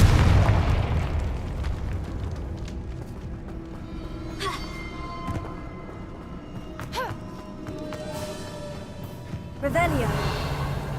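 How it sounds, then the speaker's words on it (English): In the video game Hogwarts Legacy, a Confringo spell explodes with a loud, deep boom at the start, followed by lingering rumble, magical chimes and a second burst near the end. "Confringo!"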